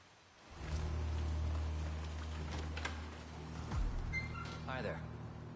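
Steady rain hiss in the Hitman video game, continuous patter with a low rumbling drone beneath and a few faint clicks and tones near the end.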